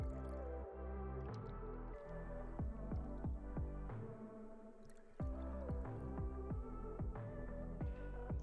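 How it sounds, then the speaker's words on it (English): A fig leaf vodka and Lillet cocktail stirred down over ice, quiet and close, with soft, rhythmic gurgling and swirling liquid, each stroke repeating at an even pace. "And then we're going to stir this down."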